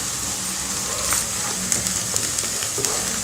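Chopped onions softening in a pan with curry leaves and salt give a steady, close sizzle with faint hiss and scattered small clicks of stirring, no voices.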